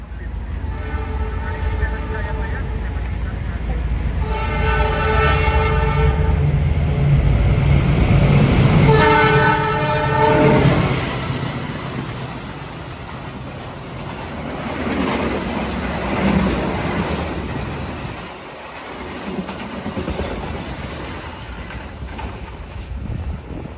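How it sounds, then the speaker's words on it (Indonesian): The Sri Tanjung passenger train pulls away from Waru station, sounding two long horn blasts over the rumble of wheels, then the noise slowly fades into the distance. "Kereta api Sri Tanjung diberangkatkan kembali dari stasiun Waru"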